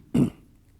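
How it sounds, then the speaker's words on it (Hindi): A single short, low throat-clearing grunt from an elderly man, close by and brief, followed by quiet. "गला साफ करके"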